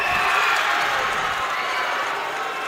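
A men's college basketball crowd, West Valley against San Jose City College, roars in a steady, dense wall of cheering and shouting that holds at full strength throughout, with some voices mixed in.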